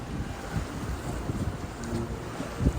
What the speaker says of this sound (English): That's a good breeze here.